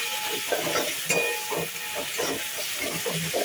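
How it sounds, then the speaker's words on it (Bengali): Ginger-garlic masala for chole sizzles and hisses steadily in a hot pan, with rhythmic scraping and stirring strokes over the constant frying noise, heard close up and without speech. "খুব ভালো করে আমি এটাকে কষিয়ে নিচ্ছি"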